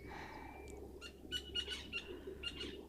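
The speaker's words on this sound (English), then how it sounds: "Oh, you silly oxpeckers." Oxpeckers give a run of short, sharp chattering calls in the bush, repeated in quick bursts over a quiet, faintly humming outdoor background.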